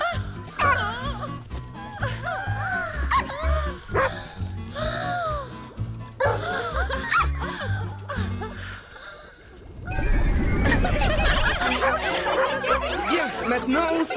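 Several cartoon dogs bark and yip in quick, excited bursts, with playful snickering and a voice mixed in, then a loud rush of noise takes over.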